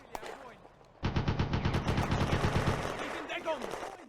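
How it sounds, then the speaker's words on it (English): Heavy machine gun firing from a building in a WWII Eastern Front battle game, a sudden sustained rapid burst of loud, close shots lasting about two seconds, fading into distant battle noise. "A heavy machine gun opens up from a building at the intersection."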